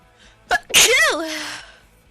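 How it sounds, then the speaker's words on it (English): A single loud, close sneeze: a sharp intake catch, then an explosive burst that trails off into a drawn-out, whiny, almost sung tail, heard alone. "That was a fucking anime sneeze."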